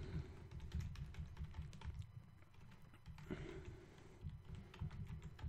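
A name is typed on a computer keyboard during setup of a Windows 7 and Linux Mint dual-boot PC: rapid, irregular key taps in quick bursts with brief pauses, close and fairly quiet.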